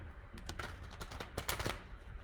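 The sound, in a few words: shuffling tarot cards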